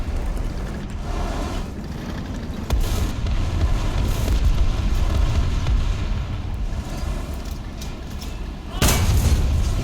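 Stabilized main gun of a Conqueror heavy tank firing in War Thunder, two heavy booming shots several seconds apart over a constant rumbling engine and battlefield din.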